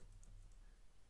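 A few quick, faint keystrokes on a computer keyboard while code is typed, soft clicks close by with no talk.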